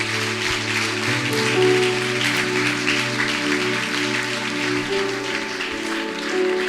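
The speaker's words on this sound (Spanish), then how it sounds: "Si le va a dar un aplauso," A church congregation claps during a sermon at Templo Betania in Colima, steady applause running throughout over sustained organ or keyboard tones.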